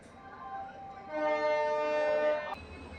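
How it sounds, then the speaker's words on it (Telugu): A Hubli-to-Bengaluru passenger train at Hubli junction sounds a sustained horn that swells in and holds for over a second before cutting off, over a low rail rumble. "అక్కడ ఒక ట్రైన్ వెళ్తుంది కదా"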